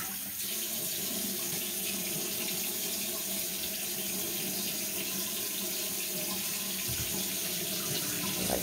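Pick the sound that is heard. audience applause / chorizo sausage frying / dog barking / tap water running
tap water running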